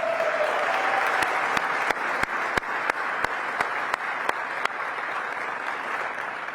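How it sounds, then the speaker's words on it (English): An audience at the Washington DC Economic Partnership annual meeting applauds Keith, a dense, even wash of clapping with a few sharper nearby claps standing out, continuous for over six seconds with no talking. "Let's give Keith a round of applause."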